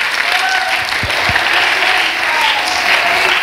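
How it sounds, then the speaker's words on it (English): A church congregation at a Sunday morning service gives a steady round of hand claps in praise, a dense, close wash of applause that fills the whole moment. "Let's give them a hand clap of praise"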